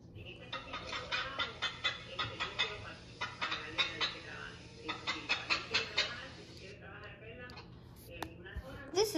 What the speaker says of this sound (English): This is a hen. A hen is a female chicken.